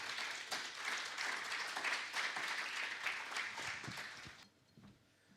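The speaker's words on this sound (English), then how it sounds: "If we can all give him a warm round of applause." An audience at an Africa summit keynote applauds to welcome a mayor to the stage, a dense wash of many hands clapping at moderate distance that fades out near the end.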